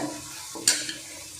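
Spice powders for a bilimbi pickle are stirred and roasted in a pan, giving a soft, dry scraping sizzle with one sharp scrape of the spoon midway through. No voices are heard.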